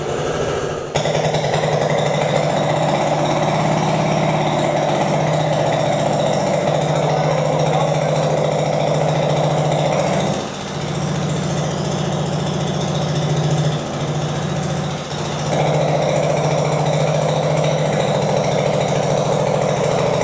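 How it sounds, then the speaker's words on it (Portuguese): An internal combustion engine on a Translucidus MT02 transparent training unit runs with its muffler removed, a loud, steady, raspy roar lasting throughout with a couple of brief dips in level. "Vamos ligar o motor agora sem silencioso."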